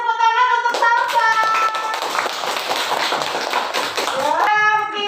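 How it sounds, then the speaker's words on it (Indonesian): Children in a classroom clap for a student for about three seconds, a dense burst of hand claps between stretches of speaking voices. "Kita beri tepuk tangan untuk salsa"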